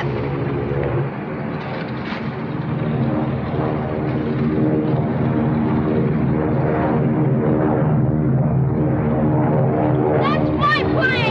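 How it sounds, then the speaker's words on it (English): A droning propeller airplane engine hums continuously beneath overlapping voices, with the pitch rising slightly toward the end. "That's my plane!"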